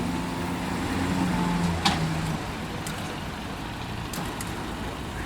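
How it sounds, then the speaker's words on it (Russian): A truck idles on a Kazan street while a wrecked car is loaded onto it after a crash. A low steady engine rumble runs throughout, broken by one sharp metallic clank. "Грузят здесь машину."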